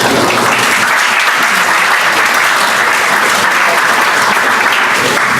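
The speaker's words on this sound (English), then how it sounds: "Round of applause for James with a token of respect" Sustained audience applause from a conference crowd welcoming a tech speaker, dense and steady throughout without talk.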